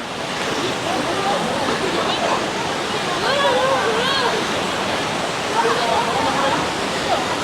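A waterfall at Minoo Park in Japan, busy on a public holiday, roars as a constant broad rush of falling water, with people talking and chattering over it throughout.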